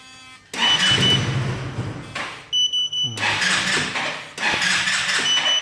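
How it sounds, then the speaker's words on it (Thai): A Yamaha Tricity scooter, immobilized by its anti-theft alarm, cranks in several short bursts that stop abruptly between attempts, with high electronic chirps sounding among the cranks. "ถ้าผมลองสตาร์ทดู จะไม่สามารถสตาร์ทได้นะครับ"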